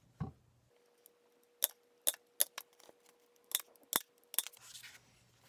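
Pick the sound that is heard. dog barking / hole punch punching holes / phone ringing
hole punch punching holes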